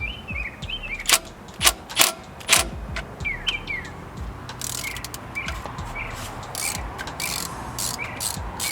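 A ratchet wrench loosens an 11mm nut on the alternator power wire of an International 4300 truck, giving a few sharp clicking bursts followed by rapid ratcheting, with birds chirping in the background.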